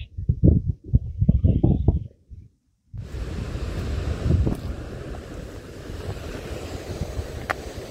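Ocean surf breaks at a seaside fishing spot, a broad rushing roar mixed with wind buffeting the microphone, following a brief stretch of close, gusty bursts and a moment of silence.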